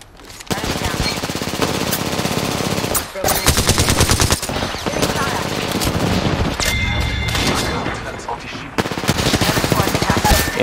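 Automatic weapon fire from the video game Apex, dense rapid bursts running almost the whole way with brief gaps near the three, five and nine second marks, loud and close with faint talk underneath.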